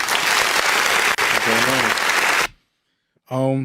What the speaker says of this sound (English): I feel like I cut the rounds of applause too short.